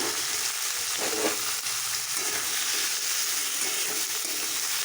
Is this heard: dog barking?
no